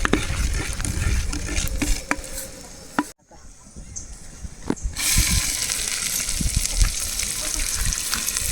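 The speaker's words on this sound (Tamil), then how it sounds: "அடுத்தது வெங்காயம் போட்டு வதக்கணும்" Chopped onions sizzle and crackle in a hot pan for pirandai kulambu, with a brief sharp hush midway before the frying noise surges back, along with scraping and stirring clatter.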